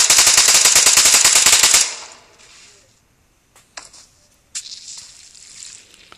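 Loud, rapid automatic gunfire rattles in a video game for nearly two seconds and then stops, followed by a quiet stretch with a few scattered thuds and clicks.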